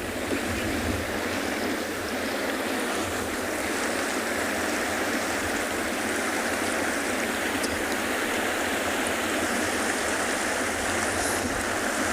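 Water rushes through a fairly narrow waterway on a penguin beach, a steady broadband flowing wash that holds at an even level throughout with no voices.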